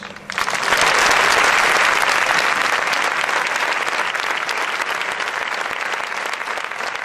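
A concert audience at a zarzuela anthology performance breaks into sustained, loud applause, many hands clapping densely and evenly after a brief quieter start.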